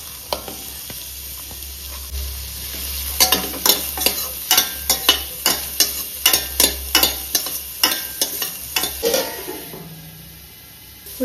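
Onions and green chilies dropped into hot oil sizzle continuously as a spoon clacks against the pan in a regular rhythm of sharp taps, close and clear with no talk.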